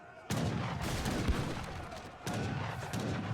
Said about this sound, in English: Napoleon guns do so much damage